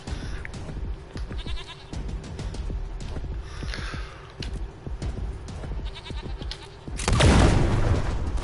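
An explosion in the Wasteland 3 video game bursts out loudly near the end, following a stretch of scattered game sounds and bleating-like effects.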